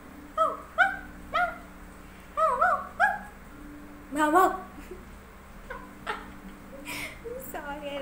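A person imitating a dog, giving a series of short yapping barks in uneven bursts, close and fairly clear, with a little talk near the end.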